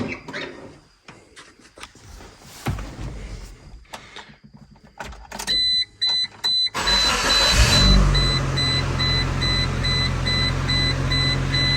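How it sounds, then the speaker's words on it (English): A Geo truck cranks over after some clunks and handling noises, then its engine catches and settles into a loud, steady high idle, with a repeating electronic chime sounding alongside. "it's definitely idling a lot higher than what it did before"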